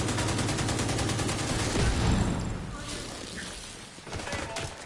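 Rapid automatic gunfire in The Division 2 rattles loud and close in dense bursts, then thins out into scattered shots and crashes.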